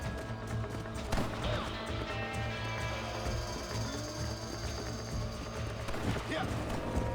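Horse hooves beat in a rapid, steady clatter while riding in the video game Red Dead Redemption, a dense percussive rhythm at moderate volume under game sounds and a player's voice.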